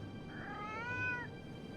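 A single drawn-out cat meow from the haunted-house video game Foolish Mortals rises and falls clearly over a quiet background.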